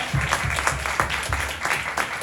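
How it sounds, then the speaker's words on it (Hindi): A church congregation claps for the Lord, a lively burst of many hands applauding together with rhythmic, slightly pulsing clusters of claps, close and fairly loud. "प्रभु के लिए ताली हो गया"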